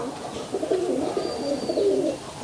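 Rajshahi Giribaz pigeons, a light green Dobaz hen among them, give soft, warbling coos in a drawn-out run against a quiet room, ending in a sudden knock.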